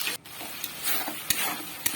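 Spice paste being stir-fried in oil in a pan while cooking dum aloo, a steady close sizzle broken by a few sharp scraping clicks of the spatula, with no talking.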